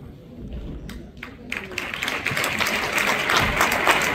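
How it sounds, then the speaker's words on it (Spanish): Audience applause at a gala welcoming a stand-up comedian, starting in scattered claps and swelling into fuller, louder clapping that continues to the end, with some crowd voices mixed in. "vamos a recibir con un fuerte aplauso a Johnny San Miguel"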